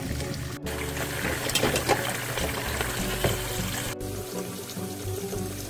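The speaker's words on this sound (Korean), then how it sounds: "센 불에서 팔팔 끓여주시면 수면 위로 거품과 찌꺼기 등이 떠오릅니다." Beef bones boil hard in a pot over high heat, a continuous dense bubbling and rumbling wash that stays steady and close with no talk.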